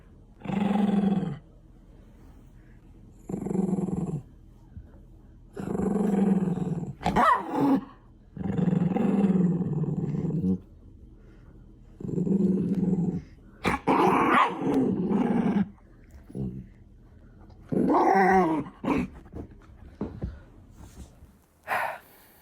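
A dog growls and snarls close by in a series of loud, rough bursts, each lasting one to two seconds with short pauses between, some rising into roar-like peaks.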